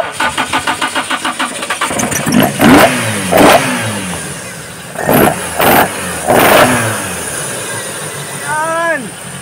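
A Toyota AE86 Trueno engine cranks with rapid starter pulses, catches, and then revs hard in several loud, close bursts before settling to a rough idle.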